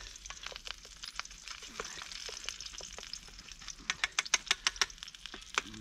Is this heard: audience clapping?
no